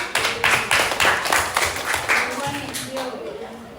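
Group of participants in an emotion-management class clapping together in a few quick, rhythmic bursts, close and loud at first, then tapering off as scattered voices take over.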